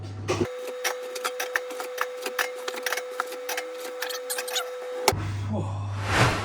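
An industrial beer fridge chilling bottles of Heineken gives off a steady electrical hum, with a string of light clicking ticks over it before the hum shifts to a lower drone near the end.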